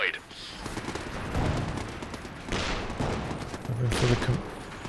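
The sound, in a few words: gunfire during an ambush in the video game Company of Heroes 2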